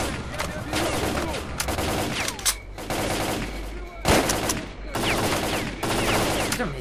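Rapid gunfire from a weapon in the video game S.T.A.L.K.E.R. Clear Sky, loud bursts and single shots in quick succession over a dense game soundscape, with brief pauses between volleys.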